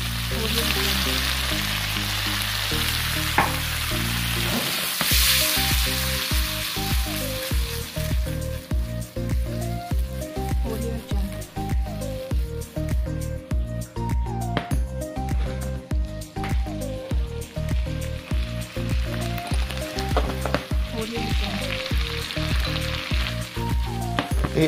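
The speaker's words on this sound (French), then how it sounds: "on fait fondre le beurre et on ajoute nos têtes de violon" Fiddlehead ferns fry in melted butter with a continuous close sizzle, while loud rhythmic music plays over it throughout.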